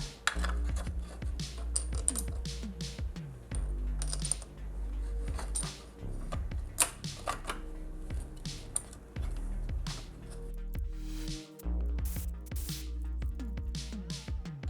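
Work on a 2021 Aprilia RS 660 brake pad upgrade, with caliper bolts dropping amid close metallic clinks, taps and rattles of parts and tools, several sharp small impacts scattered irregularly over a low background hum, no speech.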